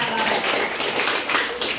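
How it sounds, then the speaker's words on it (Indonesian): Children in a classroom clap their hands together, a dense, continuous patter of many small hands close by, loud and steady throughout. "Ya, tepuk tangan dong."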